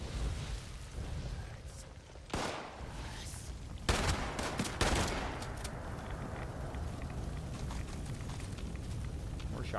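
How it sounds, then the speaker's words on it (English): Gunfire in the video game Fallout 76 at an airport event, several sharp shots in quick bursts standing out over a steady, noisy background, with a loud cluster near the middle. "shoots multiple shots."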